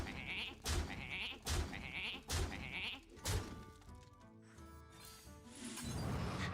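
Sheep bleating in a video game: four short, regular bleats, each paired with a soft thump, followed by quieter game effects and music.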